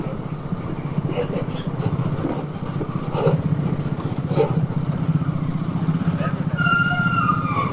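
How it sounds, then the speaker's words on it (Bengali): A motorcycle on a Kolkata to Puri road trip rolls through a toll plaza's bike lane, its engine humming steadily up close with traffic noise around it. "তো আমরা কি করব, বাইকের লেন ধরে চলে যাব সুন্দর করে।"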